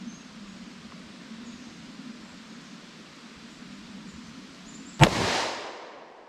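A single sharp, loud shot from a snub-nose .357 Magnum revolver fired into a ballistic test block indoors rings out over a low steady hiss and decays quickly, with nothing before it.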